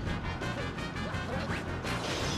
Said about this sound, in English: I need you to crash into the fence.